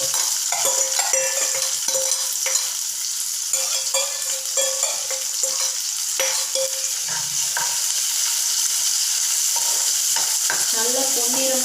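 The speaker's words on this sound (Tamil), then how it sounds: "நல்லா பொன்னிறமாக வர அளவு நம்ம வதக்கிட்டு இருக்கணும்." About ten chopped small onions sauté in a pan for murungai keerai poriyal, giving a steady, close sizzle broken by the scrape and clink of a stirring spoon.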